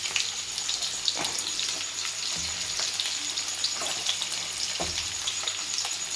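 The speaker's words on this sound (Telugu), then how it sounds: "ఇక మనకు కొన్ని కోసుకున్న ఉల్లిగడ్డలు అయితే వేస్తున్నా." Chopped onions sizzle steadily in hot oil in a pan for egg bhurji, a soft continuous frying hiss with occasional light stirring clicks, close and without talk.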